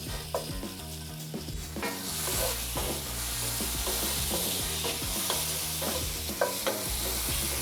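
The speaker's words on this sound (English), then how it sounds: "let that bacon slowly render and release all that bacon goodness" Bacon fries and renders in a pan over medium heat with a dense, continuous close sizzle and crackle, steady throughout with occasional sharper pops, and no voices.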